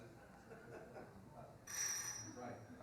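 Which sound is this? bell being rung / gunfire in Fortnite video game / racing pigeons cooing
bell being rung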